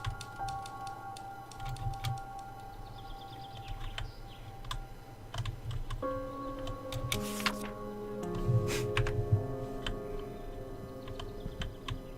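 Keyboard typing in The Novelist video game, a steady run of soft clicks and taps over a low ambient hum, with a brief musical swell partway through.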